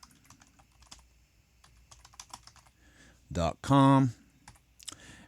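Fingers type an email address on a computer keyboard at an email login screen, a run of light key clicks under a man's speech, with a louder burst near the end.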